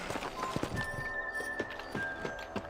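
Horse hooves clip-clop in the video game Red Dead Redemption, a steady, moderately quiet series of walking hoofbeats with faint game ambience behind.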